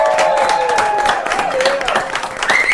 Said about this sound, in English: A smattering of applause on that one